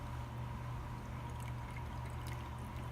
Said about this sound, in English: I just pour it straight in like this